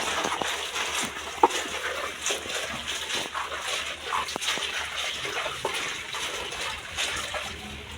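Water splashing and sloshing while cassava peels are rinsed by hand for chicken feed, a steady close wash of water with scattered splashes and small knocks throughout.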